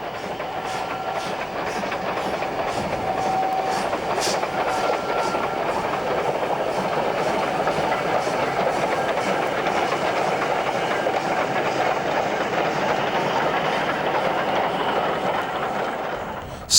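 A North Yorkshire Moors Railway train passes through Newtondale along Pickering Beck, a sustained loud rumble with rhythmic clickety-clack of wheels over rail joints and a brief high squeal, holding steady before easing off at the end.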